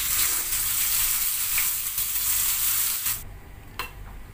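Curry leaves hitting hot oil for a tempering to pour over a snake gourd and lentil koottu: a loud, close, hissing sizzle that abruptly drops to a quieter crackle, with no talking.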